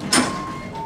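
Kone EcoDisc elevator doors at the Slieve Donard Hotel in Newcastle sliding open, a short loud whoosh and rumble followed by a fading hum, close by and with no talk.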